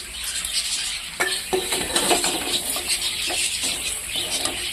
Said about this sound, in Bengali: মাংস ভাজা